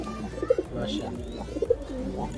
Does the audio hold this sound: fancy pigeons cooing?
yes